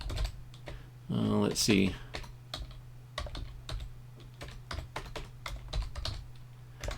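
Close, quick keystrokes on a computer keyboard type a username in irregular bursts of clicks, with a low steady hum underneath and a voice murmuring briefly early on.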